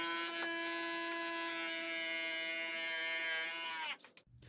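An outboard's electric power trim and tilt motor runs with a steady, fairly loud whine and buzz for about four seconds, then cuts off abruptly, leaving a few faint clicks.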